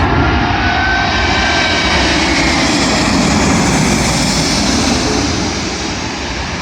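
An airliner arriving from Dallas on approach to runway 27L at London Heathrow, its engines roaring loud and steady throughout, close overhead with no voices.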